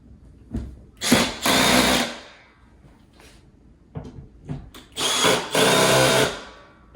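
A power drill set to a low clutch setting tightens TV wall mount bolts in a star pattern, firing two short bursts and then two longer bursts of whirring, close and loud, with clicks and handling noise in the pauses.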